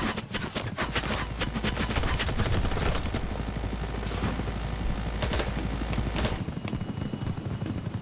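Vector submachine gun in a shooter video game fires in a dense, rapid stream of bullets, loud and close for several seconds before cutting off, with a low rumble underneath throughout.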